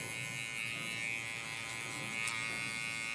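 A Babyliss SnapFX hair clipper runs continuously while blending hair in a burst fade, a steady close electric buzz with a faint rise in pitch near the end.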